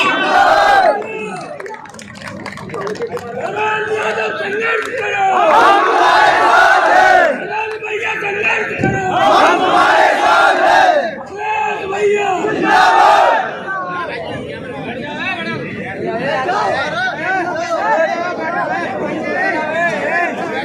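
A crowd at a political rally in Pichhore, Shivpuri, applauds and chants slogans for former MP Dharmendra Yadav and Pritam Singh Lodhi, loud rhythmic rounds of chanting over a constant crowd roar, with an amplified voice leading the calls.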